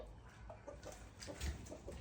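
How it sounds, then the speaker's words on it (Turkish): Several short, nearby clucks from three white chickens come in irregular bursts over a steady low rumble, with no one talking. "bizim tavuklarımız 3 tane tavuğumuz var dışarıda beyazlardan"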